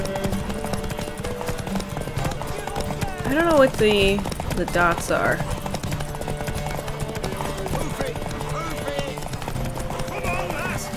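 Hooves clip-clop steadily through a horse race against the Baron in The Witcher 3: Wild Hunt, with game music and a brief whinny around the middle, while voices talk over the action.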